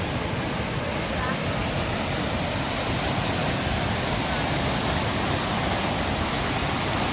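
Ouzoud waterfall in Morocco roars up close, a dense, steady wash of crashing water filling the whole clip with no pause, loud and unbroken.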